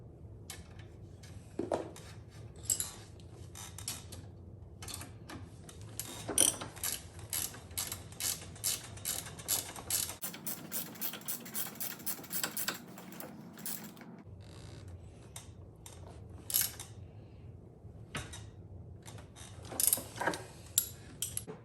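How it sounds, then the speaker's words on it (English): A hand ratchet tightens bolts on crash protection sliders on a bagger motorcycle, giving bursts of rapid metallic clicking with pauses between strokes and a longer run of fast ratcheting midway, close up. "now we're gonna finish tightening up all of these. We tightened that one up."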